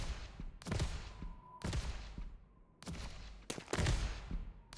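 Fireworks in the video game Momentum Mod go off in four loud, sharp bursts, each trailing into a fading crackle, with quieter gaps between them.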